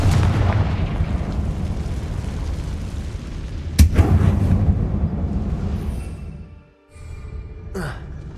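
Confringo fire spell cast in the video game Hogwarts Legacy, set inside a closed mine: a sharp explosive burst near 3.8 seconds over a dense rumbling game ambience, then a second smaller blast near the end.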